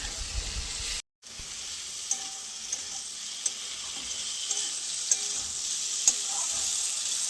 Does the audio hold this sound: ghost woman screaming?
no